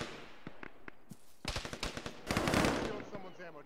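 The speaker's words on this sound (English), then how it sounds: "There's somebody shooting at me and I can't see him" Gunfire in the military simulation game Arma, played with the ShackTac group: scattered distant shots, then a dense close burst of automatic fire with echoing cracks, a voice speaking faintly underneath.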